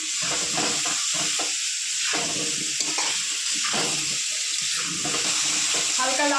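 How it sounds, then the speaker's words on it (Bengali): Pieces of rui fish frying lightly in oil in a pan, a steady close sizzle with intermittent scraping and stirring strokes breaking through. "হালকা লাল করে ভেজে নিয়েছি"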